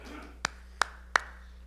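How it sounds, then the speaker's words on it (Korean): Three sharp, evenly spaced claps ring out in a quiet conference room at a university presidents' summit, each crisp and distinct over a low steady hum. "그 고충을 위로하는 의미에서 한번 큰 박수도 부탁드립니다"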